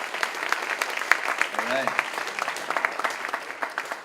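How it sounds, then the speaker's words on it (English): Audience applause at a university event, a dense, steady patter of many hands clapping throughout, with someone briefly speaking over it. "please give them a round of applause"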